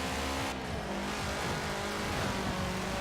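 A rally car launches from the start of a Forza Horizon race, with its engine roaring loud and constant and the revs climbing and shifting through the gears, with no voices over it.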